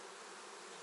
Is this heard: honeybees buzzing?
yes